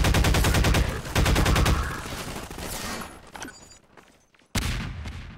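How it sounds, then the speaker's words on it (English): An assault rifle in the video game Half-Life 2 fires loud rapid automatic bursts up close, trailing into echoing rumble and mechanical clicks before another sharp burst cuts in at the end. "It's an assault rifle."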